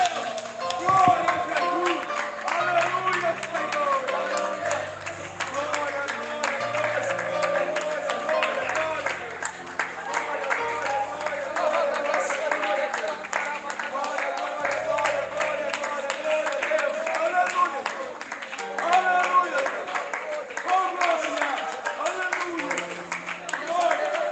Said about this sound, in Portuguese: As palmas é para Deus. É acima da tua cabeça, irmão, quando as palmas é para Jesus. 1 minuto de palma